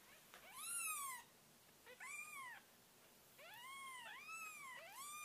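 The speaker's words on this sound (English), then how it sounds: "These two little twin kitties" Tiny kittens about two weeks old mew in thin, high, rising-and-falling cries, several calls in a row with short pauses, close by in a quiet room.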